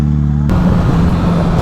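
A motorcycle engine roars steadily as the bike speeds up a UK motorway, loud and close with constant wind and road noise after an abrupt start.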